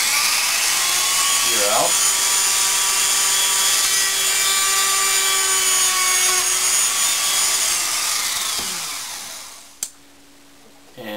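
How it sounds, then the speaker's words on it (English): A power drill bores through a gear for a DDWFTTW cart, a loud, steady, high-pitched whir lasting about nine seconds before winding down, with a brief spoken word near the end. "We'll drill the other half of the"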